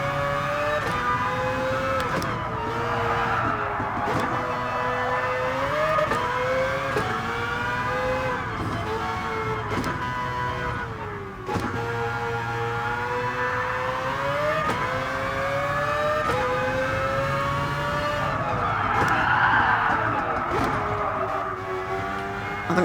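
A Mazda RX-Vision GT3 Concept races in Gran Turismo Sport, its rotary engine wailing and rising through gears with repeated shifts, loud and continuous throughout a lap with no talk.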